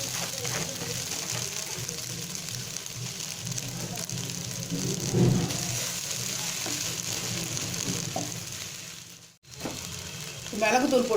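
Boiled barnyard millet noodles sizzle and crackle as they are stir-fried in a pan for a vegetable noodle dish, a steady frying hiss with occasional stirring scrapes and a brief dip near the end.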